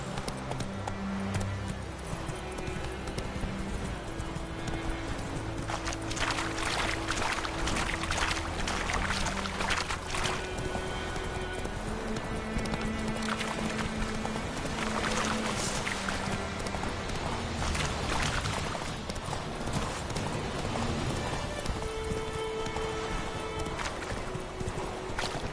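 Roach, a horse in the video game The Witcher 3, gallops in a steady rapid clip-clop of hooves under game music and ambience, with faint speech at times.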